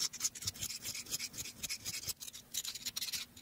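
A hand file sharpens the dulled cutter edge of an old Clark expansive auger bit, giving soft, close scraping strokes in an uneven rhythm. The strokes are quiet and hissy and continue without talk.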